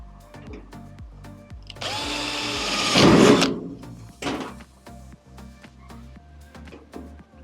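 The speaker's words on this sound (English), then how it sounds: "And you get a 1/8 inch drill." Power drill fitted with a 1/8 inch bit bores into a dryer motor mounting part, a short rising whine that bursts loud for about two seconds, then fades with light clicks and handling noise close by.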